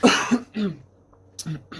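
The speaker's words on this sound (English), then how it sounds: "sorry for the clearing my throat constantly and the coughing" Several short, harsh coughs and throat-clearing rasps from a person with bronchitis, in quick succession, close and fairly loud, with brief pauses between bursts.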